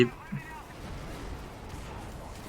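Explosions and artillery fire boom at the start of a chaotic battle in the video game Prototype, with a second blast following close behind and then a rumbling wash of combat noise. A player's voice is heard faintly over the action.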